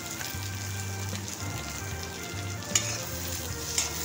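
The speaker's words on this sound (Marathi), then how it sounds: "आता आपण यात स्वीट कॉर्न टाकणार आहोत." Sweet corn kernels with garlic fry in a pan for a cheese corn sandwich, giving a steady, close sizzle with soft stirring and two brief clinks of a spoon on the pan, no voices.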